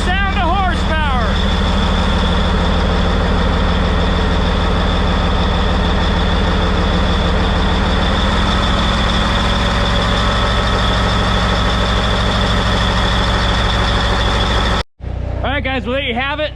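Loud, close diesel roar of a Caterpillar 773 mining truck's freshly rebuilt CAT engine running steadily, a deep rumble with a brief cut near the end.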